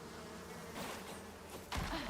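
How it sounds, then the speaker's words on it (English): Bees buzz in the open-world survival game Icarus, a faint, close insect drone that swells and fades as they circle, with no talking. "Come here, bees. I don't want you following me the whole day."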